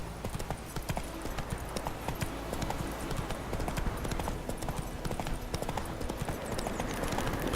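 A horse gallops in The Witcher 3: Wild Hunt, a fast, continuous drumming of hoofbeats, close and steady throughout, with a faint voice briefly underneath.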